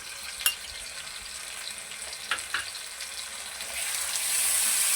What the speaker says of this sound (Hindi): मैंने लहसुन अदरक ये जो डाल दिया, इसको हम थोड़ी देर फ्राई करेंगे।